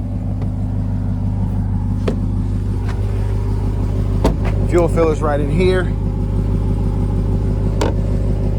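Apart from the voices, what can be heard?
2024 Dodge RAM TRX engine and exhaust running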